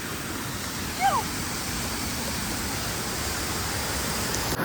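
Kalu waterfall's flowing water roars as a steady, dense broadband rush close by, continuous throughout with one brief faint squeak near the start and no clear talk.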